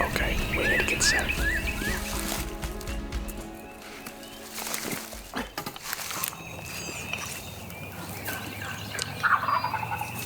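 A wild turkey gobbles outdoors during a hunt, with a quick run of loud, rattling gobbles early on and another call near the end, over rustling and quieter field noise.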